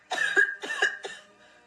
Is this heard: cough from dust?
yes